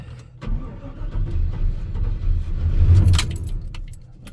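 A 1985 Chevy Squarebody truck's engine cranks and catches, a low rough churning that builds and swells toward the end, with a light metallic jingle of keys near the ignition.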